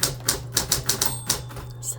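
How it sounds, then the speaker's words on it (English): A manual typewriter worked by a first-time user, giving a series of sharp, close mechanical key strikes at an uneven, unhurried pace, about eight clacks with a brief higher metallic ring near the end. "Okay, typewriter."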